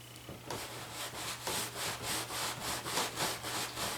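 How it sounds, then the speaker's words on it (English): Wax rubbed firmly by hand into painted upholstery fabric, making a steady rhythmic rasping swish with repeated back-and-forth strokes, close and continuous. "I'm rubbing it a little bit firmer than I would on my other projects"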